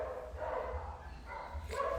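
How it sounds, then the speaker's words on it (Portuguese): A dog barks a few times in the background, fairly far off, with short separate yaps over a steady low room hum. "Meu cachorro tá latindo."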